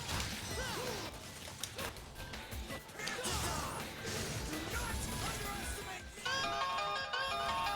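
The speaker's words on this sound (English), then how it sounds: "That sounds like a phone call" A phone ringtone chimes in with a repeating tonal melody near the end, layered over loud crashing and whooshing action from Devil May Cry 4 gameplay.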